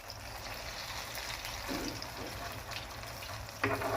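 Eggplant omelette (tortang talong) in a pan, giving a steady soft sizzle of frying throughout, near and moderate, with a brief clatter of utensils near the end.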